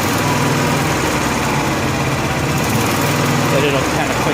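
A Honda gas-powered AC welder generator engine with a fuel delivery problem runs steadily at close range, a dense even drone with a faint rhythmic pulsing and no talk.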